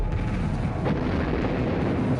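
Continuous deep rumbling booms roll together in the space-combat game StarLancer, a dense wall of heavy torpedo explosions with a sharper burst near the middle, steady and loud throughout.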